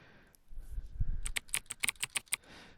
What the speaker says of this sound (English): I just smashed various keys.